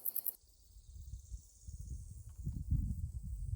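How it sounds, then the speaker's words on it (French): Cicadas sing in the Vercors mountains, a thin, steady high-pitched buzz that runs throughout at low level, faint beneath louder close rustling and handling noise. "il y a les cigales qui chantent dans le Vercors"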